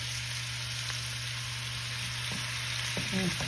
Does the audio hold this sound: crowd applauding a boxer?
no